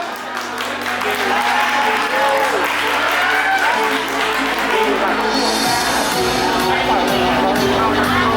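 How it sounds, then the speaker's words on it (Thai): An audience at a beauty pageant final gives a long, steady round of applause for the contestants, with music and an announcer's voice carrying through the clapping. "ขอเสียงปรบมือกับพวกเธออีกสักครั้งครับ"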